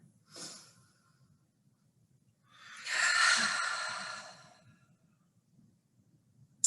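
Deep yoga breaths: a short sharp inhale through the nose, then after a pause a long, loud exhale that trails off, close to the microphone over a low steady hum.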